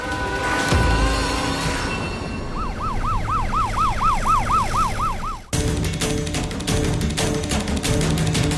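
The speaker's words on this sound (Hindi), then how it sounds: "एम्बुलेंस!" A wailing ambulance siren rises and falls in a steady repeating sweep, loud over a dense dramatic music bed, then cuts abruptly into more music.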